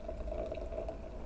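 An imperial stout pours from a 16-ounce can into a glass, giving a steady, continuous liquid gurgle with a faint bubbling fizz, close and unbroken, with no talk.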